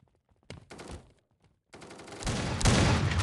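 Sniper rifle gunshots in the mobile shooter Standoff 2: sharp loud cracks, first a short burst then a longer, louder barrage of shots with rolling reverberant tails, separated by a near-silent gap.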